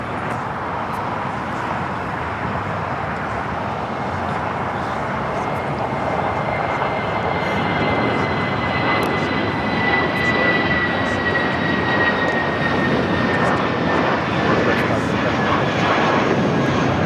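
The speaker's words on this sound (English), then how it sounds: "Legionnaire Flight 770 on an A320." An Airbus A320 jet airliner at Los Angeles International Airport makes a broad, sustained engine roar that builds gradually and holds loud across the whole stretch, with a faint rising whine on top.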